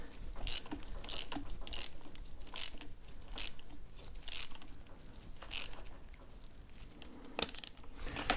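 Sharp ratchet clicks come in short bursts as a mechanism is wound, quiet and close, with brief pauses between the bursts.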